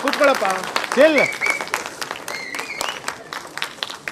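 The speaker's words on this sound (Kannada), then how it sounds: "ಜೋರಾದ ಒಂದು ಚಪ್ಪಾಳೆ ಬರ್ಲಿ." Applause from the audience at a film teaser launch event in a hall, a steady wash of clapping under a loud voice talking over it.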